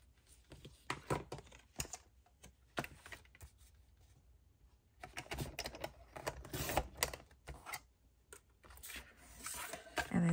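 Paper card being trimmed for a handmade trifold craft, with sharp bursts of cutting and rustling clustered near and close, separated by quiet pauses.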